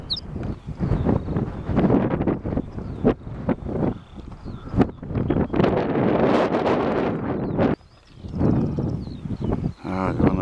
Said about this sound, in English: the wind is not so bad here because we're shielded